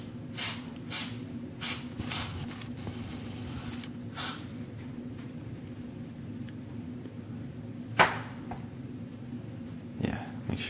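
Cooking spray greasing molds for chocolate lava cake, several short bursts of hiss spaced a second or two apart over a low background hum, with a later louder puff.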